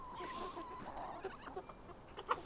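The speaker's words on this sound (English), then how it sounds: "the little chickens have finally come out of the coop" Chickens from a backyard laying flock outside their coop, soft quiet clucking and a few brief higher calls against a faint outdoor background.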